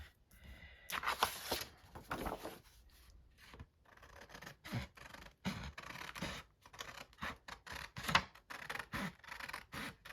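Scissors cut through paper in a quiet series of irregular crisp snips and rustling scrapes, close up, with short pauses between the cuts.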